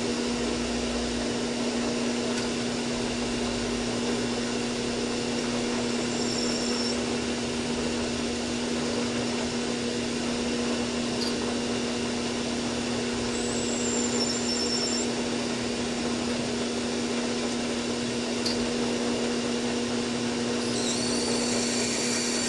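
A machine runs steadily and loudly for the whole stretch, cutting brass stock to make a scribe, with a constant hum and no talking.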